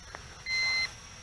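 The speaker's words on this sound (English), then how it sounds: "the transmitter is giving off a beep as well" Single short electronic beep from a GPS 2.4G FPV RC drone's transmitter during return to home, a clean high tone lasting under half a second over a quiet background hiss.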